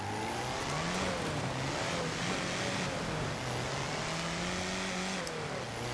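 Rear-engine drift car in Forza Horizon 4, driven downhill with a tune doubling its horsepower; a loud, steady engine drone with rising and falling revs fills the whole stretch, no talk over it.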